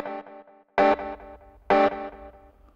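Two loud synth stabs with short attack and release, each followed by a delay effect's repeating echoes that decay quickly in evenly spaced taps.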